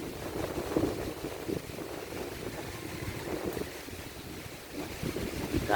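Wind blowing steadily outdoors at a forest temple, a continuous rushing buffet with gusty swells and microphone wind noise, fairly close and moderate in level, with no voices.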